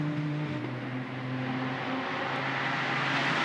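Porsche and Audi GT race cars climbing Mountain Straight at Bathurst, a steady engine drone heard from a distance, swelling slightly as they pass.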